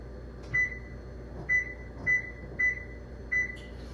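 An oven's control panel gives five short, clear electronic beeps at uneven intervals while being set to 425 to preheat for baking blueberry muffins, over a quiet, low background hum.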